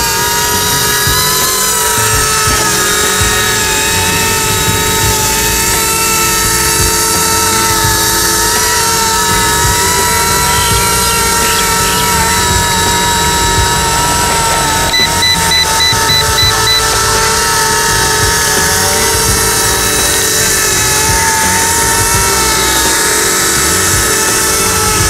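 C187 remote-control helicopter with altitude hold flying: a loud, steady whine of small electric motors and a buzzing rotor for the whole stretch, close to the listener and with no voices.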